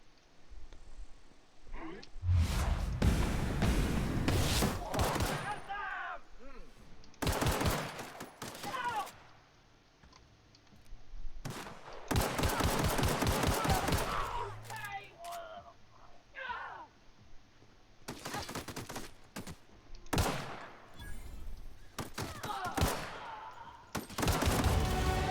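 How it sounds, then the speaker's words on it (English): Repeated assault rifle fire in The Outer Worlds video game: several loud, sustained automatic bursts separated by short pauses, with brief stretches of game sound and talk between them. "I have an assault rifle now."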